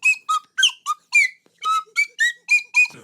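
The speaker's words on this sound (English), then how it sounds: "That's where the slide whistle came from." Rising and falling whistle tones in a quick series of about ten short chirps and glides, close and fairly loud, with no talking.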